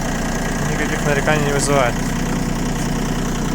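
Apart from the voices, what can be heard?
ISEKI TA317 tractor engine running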